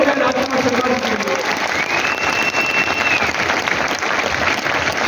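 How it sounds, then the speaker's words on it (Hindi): A large audience at a business plan meeting claps loudly and steadily for the whole stretch, a dense continuous wash of applause with crowd murmur mixed in. "मैं चाहूंगा एक बार जोरदार तालियां हो जाए राजकुमार शर्मा जी।"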